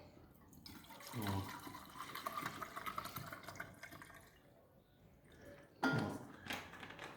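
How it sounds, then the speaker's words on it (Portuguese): Alcohol is poured from a small bottle into an ecological fireplace in short, faint, liquid splashes, with two brief bursts of pouring and a little speech nearby. "Para botar o álcool. Daí despeja ali"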